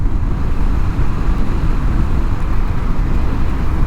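An Indian Scout Sixty Bobber motorcycle being ridden during break-in on a mountain road at sunset, with steady engine and wind roar that swells slightly as the throttle is worked.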